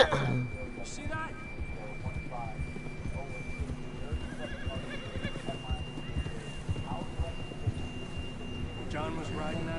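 Horse hooves clip-clop at a steady trot in a video game, with a whinny near the start and faint game tones running underneath, while voices talk over it.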